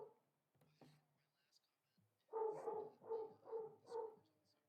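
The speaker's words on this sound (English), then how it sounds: "I heard a little dog." A small dog barks four times in a steady rhythm, fairly close, after a stretch of quiet murmuring and soft noises.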